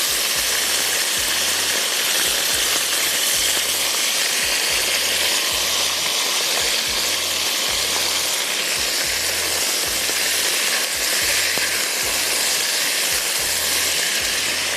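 Chicken cubes frying in a pan, a loud, dense, steady sizzle held for the whole stretch with faint rhythmic low knocking beneath, no voice.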